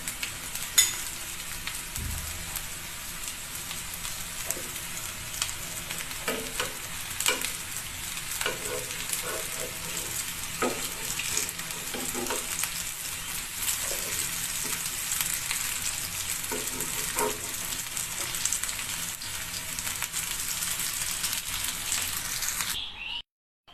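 Food frying on a kitchen stove and being flipped, a continuous close hiss of sizzling oil with intermittent scraping and clinking of a utensil as pieces are turned, then a sudden cutoff at the end.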